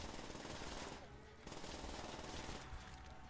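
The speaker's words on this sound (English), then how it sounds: "making some serious points here with the PPSH, racking them out" A PPSh submachine gun fires at zombies in Call of Duty: World at War Zombies on the Verrückt map, a rapid dense stream of gunfire in sustained bursts with a short pause between them.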